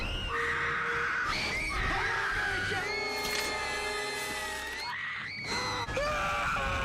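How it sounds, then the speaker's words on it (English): A woman screams in a Sam Raimi Spider-Man film scene, long shrill continuous cries that rise and waver over several seconds, loud and up front, with music and other voices underneath. "They scream in every scene."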